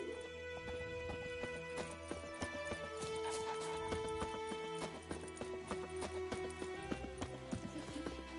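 Roach the horse from The Witcher 3 galloping, with quick, rhythmic hoof clip-clops, a whinny, and game music tones behind it, sustained and fairly close for several seconds.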